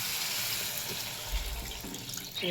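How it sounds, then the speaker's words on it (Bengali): Water pours into a pan of tilapia fish curry after the spices are fried. The rush is steady and close, lasts the full stretch, and no one talks over it. "এইবার জল দিয়ে দেব মশলা কষানো হয়ে গেছে আর জলটা দিয়ে দিলাম"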